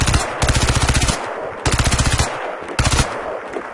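Three bursts of rapid automatic gunfire from a CryEngine 3 game, each a quick rattling volley lasting about a second, loud and close with short gaps between.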